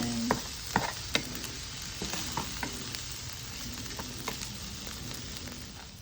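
Soy sauce stirred into food frying in a pan, giving a steady close sizzle with occasional light scrapes and taps of the utensil and no voices.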